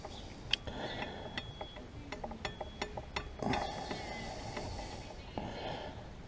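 A 12mm ratchet tightens the brake caliper bolts on a motorbike, making a close series of sharp, evenly spaced clicks in short runs with brief pauses between strokes.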